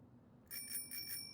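A bright metallic bicycle bell in a video game rings in a short quick trill of several dings after a quiet moment, clear and close with a lingering high ring.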